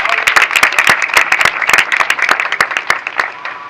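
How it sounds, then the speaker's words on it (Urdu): Loud, enthusiastic applause from a congregation during a church service, dense rapid clapping from many hands that swells close by and then tapers slightly toward the end. "آئیے اس کے جلال کے لیے بھرپور تالیاں بجائیں۔"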